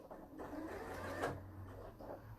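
A sewing machine runs through a flat fell seam as a guide tracks along the seam edge, giving a steady, continuous mechanical hum with a low motor drone, moderately loud and close, with no voices.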